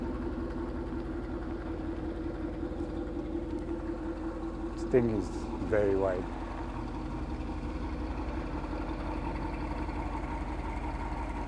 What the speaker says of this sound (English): And the Hummer is leaving. Like I said, V8, gas.